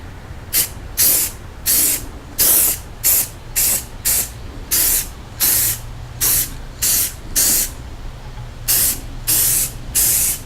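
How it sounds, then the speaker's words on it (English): A spray bottle hisses in a series of short bursts, about sixteen sprays in a fairly even rhythm with brief pauses, loud and close while bird suet is being made. "I'm just going to spray it a little bit."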